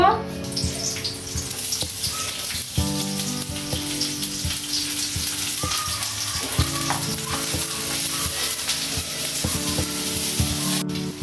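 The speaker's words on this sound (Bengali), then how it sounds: "পেঁয়াজটাকে বেরস্তা করে নিব" Sliced onions deep-frying in oil until crisp and golden for biryani birista: a steady, dense sizzle and bubbling with no voices.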